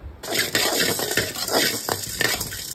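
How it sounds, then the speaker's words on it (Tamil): Black pepper and cumin seeds toast lightly in a pan for a mutton thalakari masala, giving a close, continuous dry sizzle broken by repeated scraping stirs of a utensil against the pan. "லைட்டாக ஃப்ரை பண்ணி எடுத்துக்கணும்"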